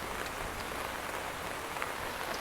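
Rain falling outdoors in Vang Vieng, Laos, a steady soft hiss of drops on surfaces with occasional louder patters, fairly faint and continuous, no talking.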